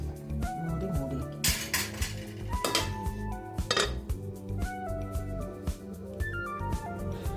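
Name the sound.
lid being put on a cooking pot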